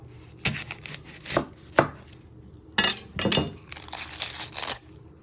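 A knife chopping the end off an onion on a cutting board, a handful of sharp close cuts in irregular clusters, each a crisp crunch knocking against the board.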